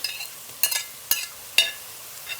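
Eggplant fries in oil with spices in a pan, mostly quiet between a few short, sharp sizzling crackles and stirring scrapes, close up with no voices.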